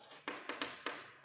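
Marker or chalk writing on a board: several short, separate scratchy strokes in an uneven rhythm, close but faint.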